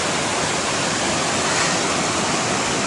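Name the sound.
river flowing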